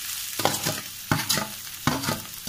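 Boiled potatoes stirred into a sizzling vada pav masala in a pan, with three clear scraping stirs of a spoon over a steady fry.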